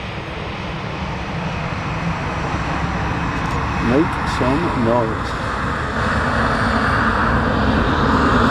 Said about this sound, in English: we have the magnificent Virgin Airbus A330 going to Atlanta